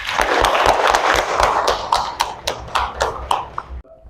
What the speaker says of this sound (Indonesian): Berikan aplaus buat Mbak Tifka.